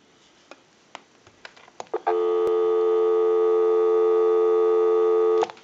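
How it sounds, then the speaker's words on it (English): Dial tone on the line of a repaired rotary dial desk telephone, starting after a few soft clicks from the handset. The tone is a steady, loud, continuous hum that holds for about three seconds and then cuts off. "Go ahead and give you some dial tone."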